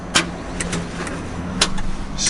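A Lamborghini Huracan fails to start when the start button is pushed, giving a few short, sharp clicks and taps over a steady low electrical hum, with no engine catching.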